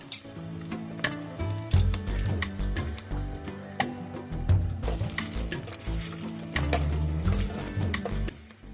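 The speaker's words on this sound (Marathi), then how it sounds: "त्यामध्ये थोडेसे कढीपत्ते घाला एक बारीक चिरलेला कांदा घाला" Onion and curry leaves sizzle steadily in hot oil with occasional stirring, while music plays in the background.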